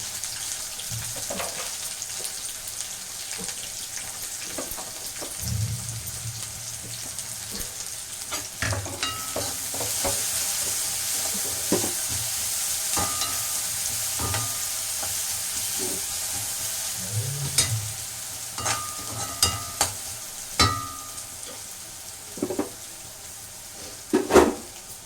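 Chopped onion sizzles and fries in a pan while a spoon scrapes and stirs it in bursts, with occasional clinks and a faint running-water tap in the background; no talking.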